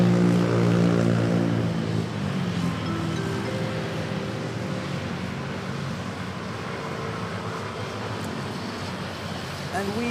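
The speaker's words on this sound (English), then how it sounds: "we have a takeoff at runway 13" A propeller airliner takes off from runway 13 at Manila airport bound for Iloilo, its engine roar loud and steady at first, then easing slightly as it passes, with a continuous droning hum and harmonic whine throughout.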